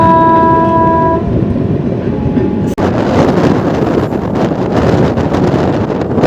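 NJP to Kolkata Holi special train: a horn blast sounds at first over rumbling wheels, then loud close wind-buffeted rushing and clatter of the moving train; no talk.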